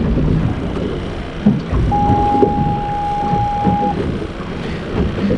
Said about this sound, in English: Sorry for the horn beeping in the background,